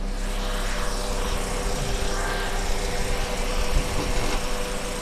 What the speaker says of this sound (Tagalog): Yan po yung makina niya.